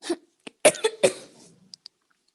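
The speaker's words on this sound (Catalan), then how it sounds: "Un poquito de tos." A few sharp coughs in quick succession, close and fairly loud, followed by faint small clicks and quiet.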